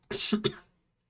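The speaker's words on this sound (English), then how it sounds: "I hate that I'm coughing this bad on stream." A single short, harsh cough burst with two quick hacking pulses, close and alone.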